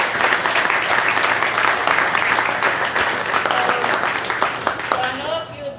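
An audience at a community peace summit claps together in a continuous, moderately loud round of applause, with a faint voice surfacing briefly toward the end.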